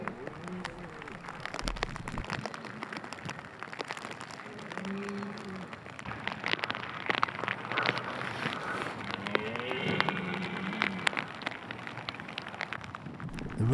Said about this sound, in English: One track has got the sound of the rain coming down